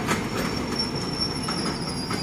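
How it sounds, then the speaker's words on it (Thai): A rapid passenger train rolls slowly into Photharam station alongside the platform, with steady rumbling wheels, rhythmic clicks over rail joints and a thin, sustained high squeal of braking wheels, close and continuous. "ขบวนรถจอดเทียบชานชาลาสถานีทางที่1"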